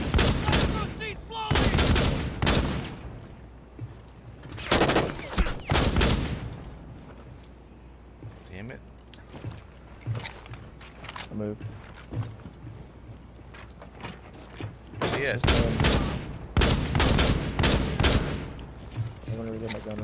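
Gunfire rings out in a first-person shooter match, arriving as loud, sharp bursts and rapid volleys that cluster at the start, the middle and near the end, separated by quieter stretches.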